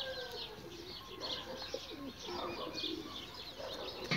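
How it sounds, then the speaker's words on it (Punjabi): Pigeons coo at a moderate distance against a busy backdrop of chirping birds and occasional wing flutters, with the soft repeated calls blending into the steady ambient noise. "ਇਹ ਕਬੂਤਰ ਦੇਖੋ।"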